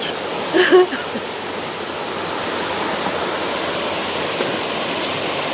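Small waterfall at Lodh Falls in Jharkhand, a steady broadband rush of falling water heard close and continuous, with a brief voice-like burst near the start.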